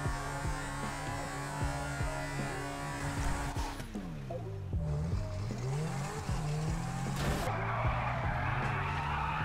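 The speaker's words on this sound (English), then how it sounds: "On the Zentorno, we've got the front two tyres popped and we've lowered it from the rear." A Zentorno supercar in GTA Online, front two tyres popped and rear lowered, whines with a sustained engine hum and repeated tire squeals and skidding noises, pitch sweeping as it accelerates and turns, no talking.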